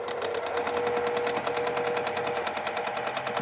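A sewing machine runs steadily, stitching quilt block patches together, with a fast even needle rhythm and motor hum, close and continuous without pause.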